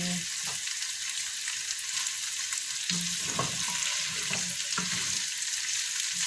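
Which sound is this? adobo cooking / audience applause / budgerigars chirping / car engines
adobo cooking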